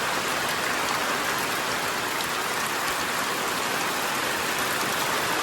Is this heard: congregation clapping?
no